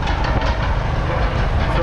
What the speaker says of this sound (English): The loud noise you hear is from gold mining.